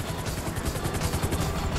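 A helicopter in the video game GTA V thrums steadily overhead during a rooftop raid, a continuous rhythmic rotor chop at moderate loudness with no voices.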